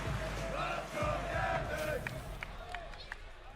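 Crowd noise from the audience at a Street Fighter 6 Top 8 match at the Combo Breaker tournament, a sustained roar of cheering and shouting with brief sharp bursts, mixed under a commentator's voice.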